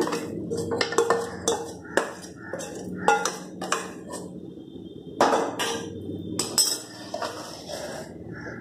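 A spoon or ladle clanks and scrapes against a metal pan again and again, mixing fried brinjal into rice for vangibath, with close, irregular metallic knocks and no talk.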